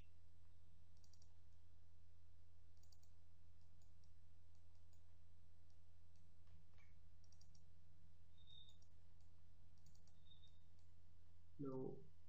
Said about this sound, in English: Now double click on this edge.